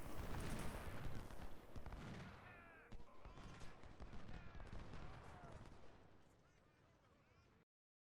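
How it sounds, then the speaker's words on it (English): Artillery fire from 24-pound howitzers in the Ultimate General: Civil War game, with several heavy booming shots and crackling gunfire. The barrage is densest at the start and then continues as a dense battle din that fades toward the end. "Let's go ahead and walk the 24-pound howitzers up a little bit. Have them fire, degrade the enemy"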